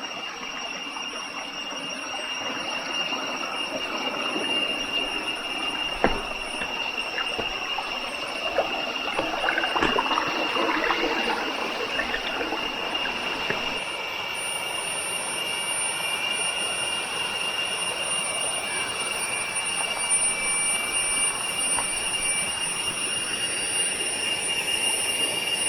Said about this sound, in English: tons of the cicadas or whatever these insects are wailing away